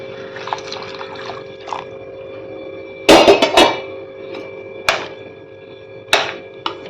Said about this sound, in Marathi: आता आपल्याला याच्यात गरम पाणी टाकून घ्यायचे